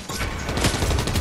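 A drum shotgun in a video game fires as a fast, loud burst of close blasts, packed into about a second of crunchy impact noise.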